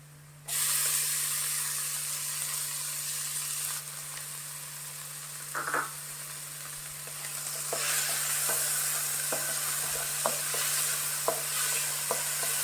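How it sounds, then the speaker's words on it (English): Tomatoes and onion sauté in a pan for Goan green beef curry, a steady sizzling hiss that swells midway, with repeated sharp taps and scrapes of stirring toward the end and no talking. "Saute the tomatoes for a while."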